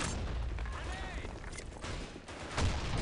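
Gunfire in the Blackshot video game, with dense, loud, continuous shooting and booms filling the whole clip at close range.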